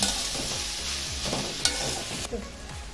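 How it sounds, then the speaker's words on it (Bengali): Pumpkin for laddu is stirred in a hot pan with repeated scraping strokes over a steady sizzle. The sound is close and continuous, and no one talks. "কুমড়োটা নেড়ে নেড়ে আমি এই পর্যায়ে এনেছি"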